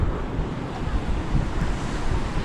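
Sea waves and strong wind by the coast at the Devgad windmill garden near Malvan, a loud continuous roar of surf mixed with gusty wind buffeting the microphone, with no voices.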